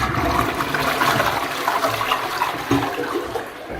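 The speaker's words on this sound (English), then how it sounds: "to flush, there's like this button here, and you just push it. No, you pull it up." A hotel-room toilet flushed by pulling up a button on the cistern, a loud close rush of water swirling and draining steadily for several seconds, with no talking.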